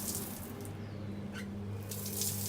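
Water pours steadily from the faucet of an outdoor shower, a soft continuous splashing rush heard up close at low volume with no talking.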